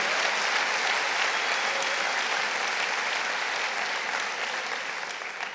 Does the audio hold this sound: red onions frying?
no